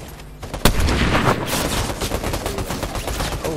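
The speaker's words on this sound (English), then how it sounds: "there's somebody shooting at us from straight ahead" Gunfire erupts in a squad video game battle. One sharp close shot is followed by a dense, continuous rattle of rapid fire and distant shooting, with no talking.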